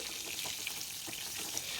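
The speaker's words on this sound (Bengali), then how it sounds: "আরেকটা কড়াইয়ের মধ্যে মাছ দিয়ে দিলাম মাছ ভাজা করে" Fish sizzles as it fries in hot oil in a wok, a continuous crackling hiss with light popping, close and steady with no talk.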